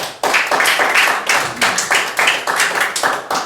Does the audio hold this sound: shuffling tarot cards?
no